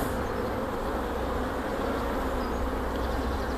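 A dense, steady drone of many honeybees fills the air right at the hive during queen rearing, loud and unbroken with no voices.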